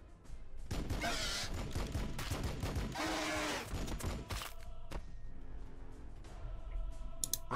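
Gunfire in the video game Warhammer 40,000: Battlesector, a dense, loud fusillade of rapid shots and bursts with crashing impacts, continuing nonstop and then thinning into scattered clicks and thuds.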